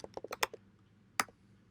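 Brisk keystrokes on a computer keyboard while entering a MySQL database query, a quick burst of clicks followed by a short pause and a single final press, quiet and close.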